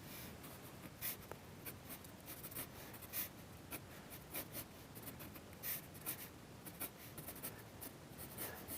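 A 2B pencil sketching trees on paper, scratching and scribbling in a steady stream of short, close strokes, with a few slightly louder scrapes throughout.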